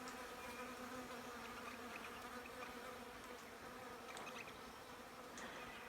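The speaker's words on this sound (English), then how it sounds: "Can you hear that? It's the honeybees." Honeybees buzz in winter, a soft steady hum of many insects heard at a distance and at low volume, continuous throughout with no voices.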